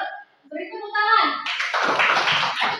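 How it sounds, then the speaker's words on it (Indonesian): Classroom audience clapping during a lesson: a voice speaks briefly, then a burst of many hands clapping, close and fairly loud, runs on steadily to the end. "Beri tepuk tangan."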